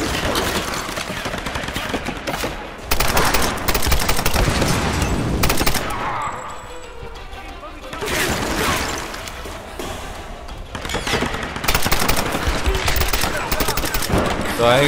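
Rapid gunfire from a Tomb Raider video game fills most of the stretch, dense bursts and volleys loud up front, with a brief lull midway before the shooting picks back up.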